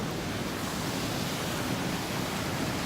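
The Temperance River waterfall roars as a dense, steady, full-bodied rush of falling water, unbroken and even throughout, with no voices.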